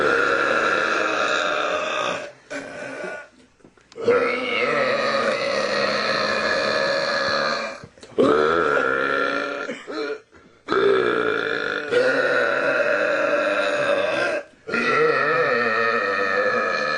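Several people let out long, loud, drawn-out burps one after another, each lasting a few seconds with brief pauses between them.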